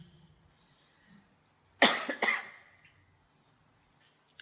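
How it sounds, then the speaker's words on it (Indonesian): A man coughs twice in quick succession, short harsh bursts at moderate volume in an otherwise quiet room. "Penyakitnya batuk."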